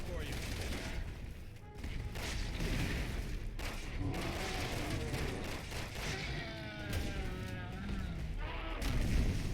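Gunfire in the video game Resident Evil 6: a dense run of sharp shots and impacts keeps going through the clip, with someone talking over the action.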